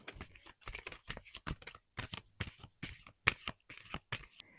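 A deck of TBR cards being shuffled by hand, giving a series of quick, crisp riffling and flicking bursts in an irregular rhythm, close and fairly quiet, with no talk.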